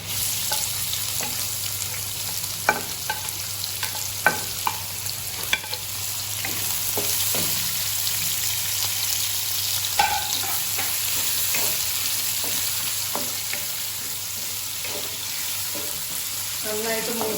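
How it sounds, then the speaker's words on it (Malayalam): Sliced onions fry in a few spoons of hot oil in a pan, a loud steady sizzle running throughout while a spoon stirs with scattered scrapes and taps. "ഈ സവാള ഇട്ട് ഒന്ന് വറുത്തെടുക്കണം"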